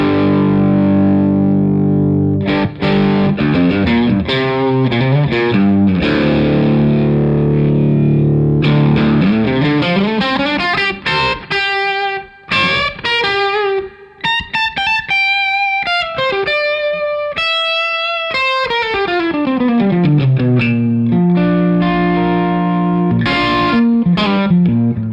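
Electric guitar driven hard through a JAM Pedals Boomster MK2 high-fidelity boost and buffer pedal, playing loud, continuous distorted chords and sustained lead bends with no pauses.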